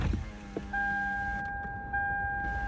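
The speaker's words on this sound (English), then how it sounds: "roll down the window" A car's power window lowers with a steady electric motor whine lasting about two seconds, close by, over the rumble of strong coastal wind in California.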